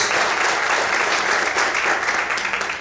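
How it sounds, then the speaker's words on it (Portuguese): A church congregation at an evening service applauds strongly, a thick sustained roar of many clapping hands that holds steady and then begins to taper off near the end. "Você pode aplaudir bem forte ao Senhor esta noite."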